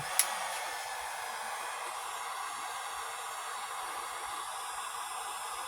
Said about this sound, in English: Heat gun. Medium setting.